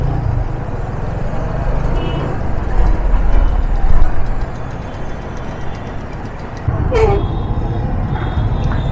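Dense, heavy road traffic close by with trucks and buses idling and rumbling in a jam near home in India, a steady low drone with a brief air-brake hiss partway through.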